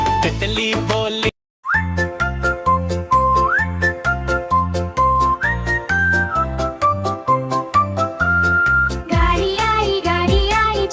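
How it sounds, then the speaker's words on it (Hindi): A bright, tuneful toy-train whistle plays a melody over a bouncy toy-like backing tune of a Hindi children's rhyme with steady rhythmic beats, loud and close, no speech. "सीटी देखो कैसे बजी कुप कुप कुप।"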